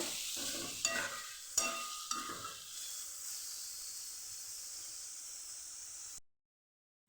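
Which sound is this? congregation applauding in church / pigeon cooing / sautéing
sautéing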